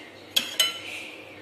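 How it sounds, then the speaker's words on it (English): A spoon scooping ice cream and cake from a sunrise pudding, two quick clinks of metal against the dish followed by a soft scraping slide, close and quiet. "Scoop the ice cream and the cake."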